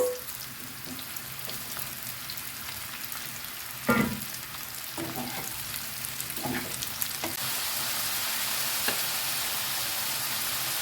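Vegetables including zucchini sizzle steadily in a hot pan, a constant crackling hiss that grows slightly louder, with occasional stirring clinks and scrapes.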